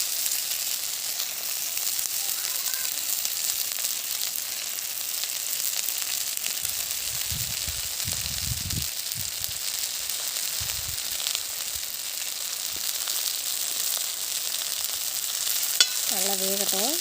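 Fish coated in spice paste fries in sesame oil with a steady, loud sizzle that runs the whole time, broken by a few brief clatters midway and a sharp click near the end; no one speaks.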